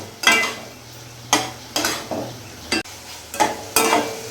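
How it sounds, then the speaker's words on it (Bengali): Spice masala with a large chopped tomato being stirred and fried in a pan, several scraping strokes of a spoon against the pan over a steady low sizzle. "এবার একসাথে মিশিয়ে ভালো করে আমি মশলাটা কষিয়ে নেব।"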